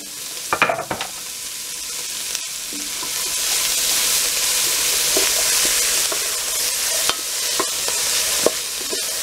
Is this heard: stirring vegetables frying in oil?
yes